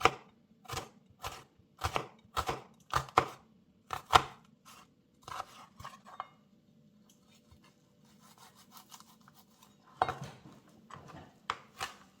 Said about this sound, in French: Ciselez vos échalotes.